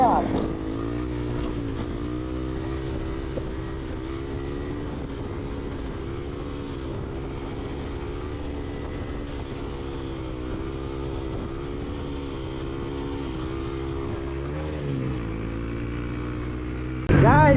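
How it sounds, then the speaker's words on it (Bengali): A motorcycle engine revs steadily at high pitch while the rider holds a wheelie in third gear, its drone rising and wavering in long sweeps, close and loud throughout, with a brief louder burst at the very end. "এখন কিন্তু উইলি করছি থার্ড গিয়ার পর্যন্ত"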